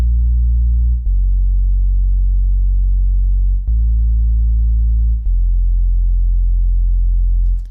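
A dry Sublab XL sub bass patch with no effects holds deep, smooth sustained notes, changing pitch three times with clean attacks, loud and alone.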